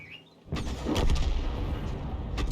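A 105 leFH18B2 artillery gun fires in World of Tanks, a single heavy report arriving after a quiet moment, followed by a rumbling tail and scattered battle noise.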